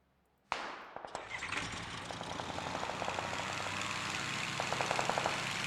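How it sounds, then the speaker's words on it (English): In a PUBG match, three quick gunshots crack out after a moment of quiet, followed by a sustained engine-like roar and a series of faint rapid popping bursts. "Shots fired ahead. Three quick shots."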